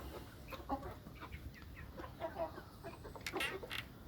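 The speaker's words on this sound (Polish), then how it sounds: "Tutaj kurka przyszła" Chickens cluck and make short calls while being fed wheat at a farm coop, scattered soft clucks near and far over a faint steady background.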